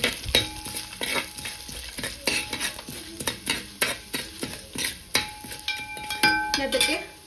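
A spoon stirs vegetables in a pan in a home kitchen, giving a steady run of scrapes and taps against the metal under a low sizzle, close up.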